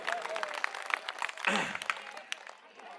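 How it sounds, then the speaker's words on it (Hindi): Crowd at an outdoor Aam Aadmi Party public rally in a Delhi colony clapping, fairly faint and scattered, with voices and crowd murmur mixed in. "एक बार जोरदार तालियां अपने लिए बजाइए"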